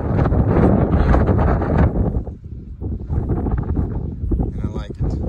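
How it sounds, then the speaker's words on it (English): Strong wind blasting the microphone on Saddleback Mountain summit at 4,118 feet, loud roaring buffets that ease briefly midway and then pick up again, with someone speaking under it. "So, very windy."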